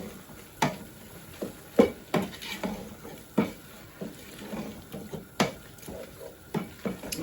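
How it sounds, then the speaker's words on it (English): A spoon stirs fresh ginger garlic paste in a pot, making soft, irregular scrapes and light clinks against the metal. The sound is close and fairly quiet, with no voices. "I'm just going to mix this up and then leave it for another 15 minutes"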